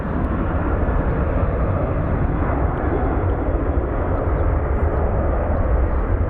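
Airplane landing at Phoenix Sky Harbor airport, a steady, loud roar of jet engines and rushing air that holds evenly throughout without any talk.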